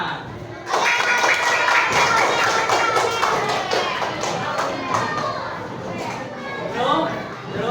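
A classroom group of children claps hands together, loud and close, the clapping sustained for several seconds with thumps and lively chatter from the kids mixed in.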